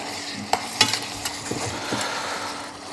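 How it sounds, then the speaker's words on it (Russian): Beef and potatoes for an Irish stew sizzle in a hot pan while a utensil stirs them, giving a few distinct scraping knocks over continuous frying hiss, close and fairly loud, with no talking. "перемешиваем."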